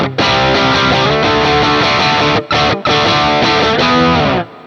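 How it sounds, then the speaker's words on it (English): Electric guitar on its single-coil bridge pickup, loud, sustained distorted chords with a couple of brief gaps and a final abrupt cutoff, played alone. "And finally, the bridge pickup sounds like this."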